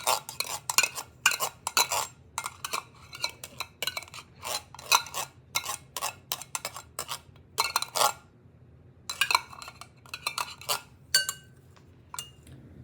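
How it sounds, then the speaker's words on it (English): A metal spoon scrapes the last tomato sauce from the inside of a can, a long run of quick, close clinks and scrapes in irregular bursts with brief pauses between them. "take out a spoon and get the little last bits of tomato sauce out"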